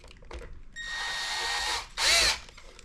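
A power drill drilling holes for a fender liner on a Traxxas Rally RC car whirs steadily for about a second, pauses briefly, then revs again in a short, louder burst, close up with no talking.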